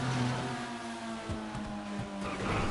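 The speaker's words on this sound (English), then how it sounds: "Hear both engine notes singing hard," Race car engines in the video game GTA rev hard with a steady high whine, gear-shift dips and brief bursts, fairly loud with no talk over them.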